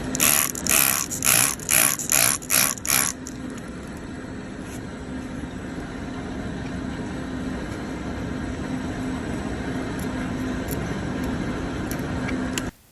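Water spray rinsing an animal's hoof during stone removal, a steady hiss that runs continuously after a few rhythmic bursts of louder scraping strokes at the start, then cuts off abruptly.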